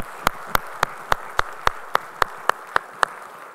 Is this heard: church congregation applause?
yes